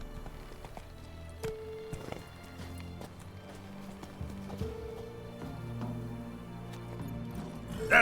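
Roach the horse gallops in The Witcher 3: Wild Hunt, with a steady clip-clop of hooves running through game music and ambience, moderately close.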